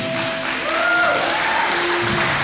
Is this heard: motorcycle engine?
no